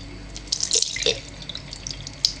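Rice rinsing water for maki is poured off into a sink, with splashing trickles and drips that swell and fade over a couple of seconds, fairly close and without speech.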